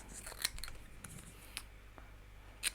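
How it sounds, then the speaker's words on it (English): Sharp scissors snips into a cardstock banner for festive card making, a few quiet, isolated cuts spaced over a couple of seconds with a crisp final snip near the end. "Snip into the middle"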